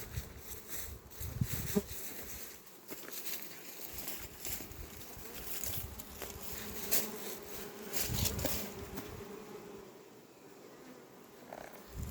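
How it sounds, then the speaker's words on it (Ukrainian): Bees buzzing around hives at a site of mass bee poisoning in the Bershad community, Ukraine, a steady insect drone throughout the outdoor scene, moderately faint with a few louder passes close by. "Масова потрава бджіл."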